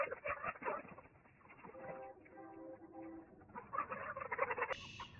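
White Leghorn chickens make soft clucking and cooing calls nearby, quiet intermittent bird vocalizations with a brief pause in the middle.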